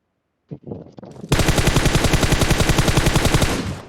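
A few sharp shots ring out, then a long rapid burst of automatic gunfire rattles continuously for several seconds with an electronic game-like quality, from PUBG Mobile.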